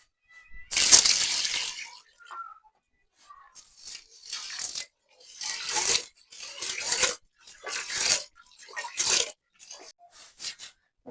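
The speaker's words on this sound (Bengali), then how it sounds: "চালটা ধুয়ে নেব।" Rice being washed in water for a rainy-day khichuri, with irregular splashing, swishing and grainy rattling bursts in a close, quiet kitchen, pausing between rinses.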